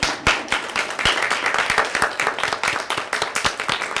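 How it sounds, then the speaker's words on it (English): Steady applause from an audience at a high school honor society induction ceremony, many hands clapping in a continuous patter with some sharper nearby claps standing out. "I want you to give them a round of applause"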